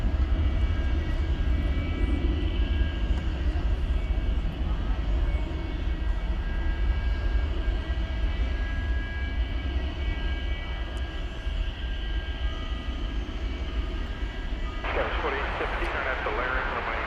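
An airplane at DFW Airport produces a steady, loud engine drone that continues throughout, with people talking over it.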